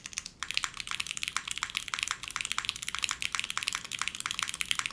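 Rapid, steady typing on a custom-built Kohaku mechanical keyboard, with crisp, closely miked clacks at an even rhythm and no voices.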